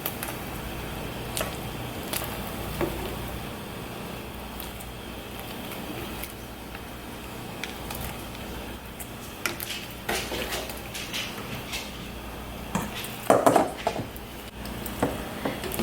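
A metal net scooper lifts wontons out of a pot of simmering water, with soft clinks and scrapes against the pot over a steady bubbling boil and a brief clatter near the end.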